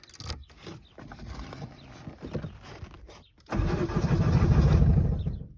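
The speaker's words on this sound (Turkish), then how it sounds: "Tamam, çalıştıralım bakalım. Araba çalışacak mı?" A small truck's engine is cranked after an ignition switch is refitted. Clicks and a starter churn come first, then after a brief pause the engine catches and settles into a loud, steady idle close by.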